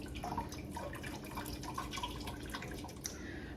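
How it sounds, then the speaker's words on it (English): Whey trickling and dripping out of homemade ricotta wrapped in a tea towel into a bowl, faint irregular wet drips and splashes over a soft watery hiss, with no talk. "the whey is still draining out of this"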